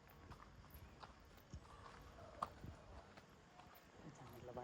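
Horses walking on a trail near Matheran, an irregular clip-clop of hooves at close to moderate distance, with people talking over them.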